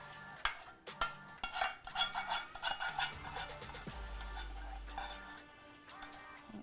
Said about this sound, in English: Then we're going to take our pot of sauce and put it in our noodles.